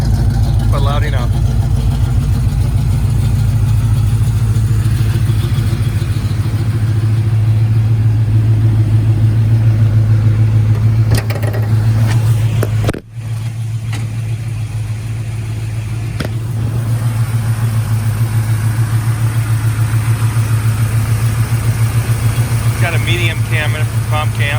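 A 1981 Camaro Z28 with medium comp cams idles with a steady, loud, slightly lumpy rumble close by, briefly dipping midway, while someone talks over it.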